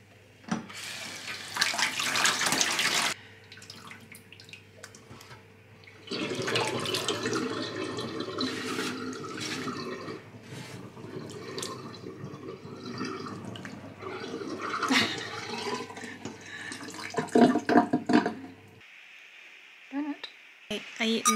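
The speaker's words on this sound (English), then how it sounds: "The water is draining really slowly because there's a load of hair in there." Dirty water runs and gurgles as it drains slowly from a basin clogged with a load of hair, a fairly loud wet rush in bursts with pauses, sometimes near and trickling, with a voice talking at moments.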